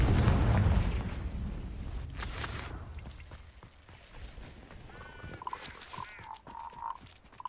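A fiery Confringo blasting spell from Hogwarts Legacy goes off in a loud burst at the start, then decays into a rumbling tail under quieter game ambience with faint tonal chirps.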